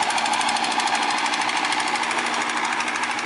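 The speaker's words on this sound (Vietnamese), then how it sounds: "Rồi, máy nè mọi người." A vỏ lãi long-tail boat's big motor running hard nearby on a busy river, giving a loud, steady, rattling clatter with a rough knocking texture and no pauses.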